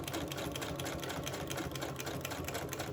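A sewing machine runs a straight stitch along a journal cover, giving a steady, rapid mechanical whirring and needle clatter close up for the whole stretch, with no talking.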